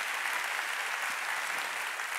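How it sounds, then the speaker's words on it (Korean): Congregation applause during a Wednesday church worship service, a short burst of even, steady clapping from many hands at moderate distance with no speech. "박수 좀 쳐줘요."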